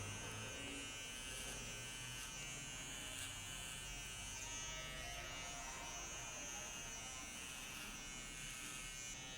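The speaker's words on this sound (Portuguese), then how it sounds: "vou estar utilizando a minha máquina de acabamento de cima para baixo" Electric finishing clipper buzzing steadily and close while trimming hair in a high fade, run top to bottom near the skin; a continuous high-pitched whine with no pauses for the whole stretch.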